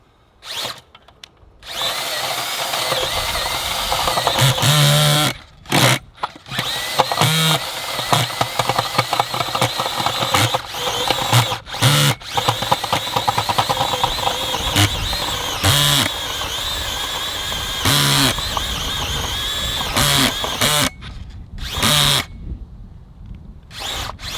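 A Makita 36V cordless earth auger with a 200mm bit bores into hard, tough clay, its motor whirring loudly in long bursts that stop and restart several times, with brief quiet gaps between runs.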